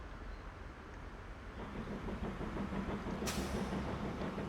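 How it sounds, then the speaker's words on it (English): A train in Transport Fever 2 rolls in with a steady low rumble and rhythmic clatter that grows gradually louder, and a brief bright hiss sounds partway through. "Here comes a train."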